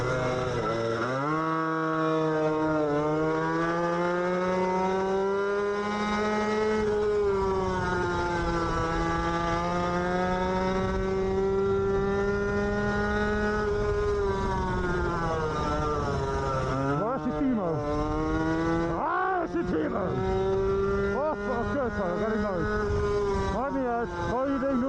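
An on-board race car runs laps at the Assen circuit, its engine a loud, constant high whine that rises and falls through gear changes and corners, with short revving bursts near the end.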